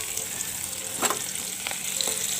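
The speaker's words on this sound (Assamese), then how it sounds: "এয়া পিঁয়াজ দি অলপ সময় লৰাই আছোঁ।" Onions sizzling and frying in a pan, stirred a few times, giving a continuous close hiss with soft scraping strokes.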